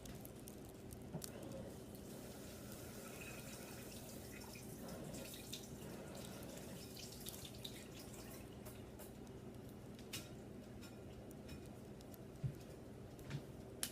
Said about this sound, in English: Or rinse these off.